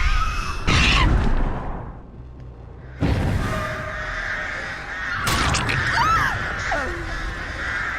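Crow caws from the Artist's birds in the Dead by Daylight video game, harsh croaking calls that rise and fall in bursts against a rumbling game ambience.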